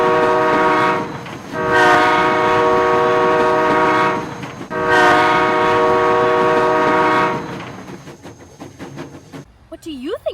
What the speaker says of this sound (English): 3 short blasts mean the train is backing up.